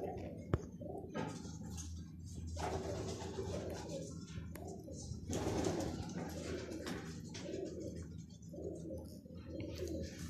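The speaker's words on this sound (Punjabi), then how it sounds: "ਇਹ ਵੇਖੋ ਕਬੂਤਰ" Pigeons kept for pigeon flying in a loft, giving soft low cooing that runs steadily through the clip with occasional wing flutters, fairly close and a little muffled, with no talking over it.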